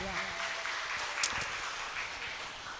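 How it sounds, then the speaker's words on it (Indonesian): Applause at a health-training event for community health post volunteers, a short continuous burst of clapping from a seated audience at moderate loudness, with a voice briefly over it. "Kita beri aplaus untuk narasumber kedua."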